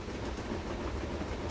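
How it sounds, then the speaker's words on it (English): A Black 5 steam locomotive hauling a big passenger train rumbles steadily past at a distance, with faint rolling wheel noise and no sharp detail. "Black 5 with a big passenger train"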